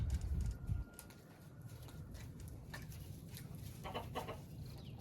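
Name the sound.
chickens clucking, hens and roosters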